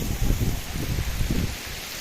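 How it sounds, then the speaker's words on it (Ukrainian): Light rain drizzles and drips outdoors, a steady soft patter of drops with low rumbling texture underneath, continuous and fairly close, with no voices. "Ще дощик моросить. Щось щось капає. Може це дощ?"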